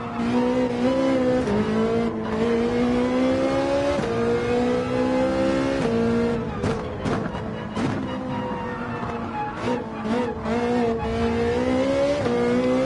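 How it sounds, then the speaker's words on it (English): Ferrari 458 Gr.3 race car in Gran Turismo 7 sliding, its engine droning and swooping in pitch as throttle comes and goes, with bursts of tire scrub and squeal through the middle, loud and continuous. "Sent me out in a slide, but the 458 is predictable in how it lets you know that it's complaining"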